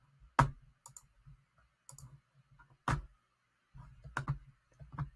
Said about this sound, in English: And then we'll click on view results.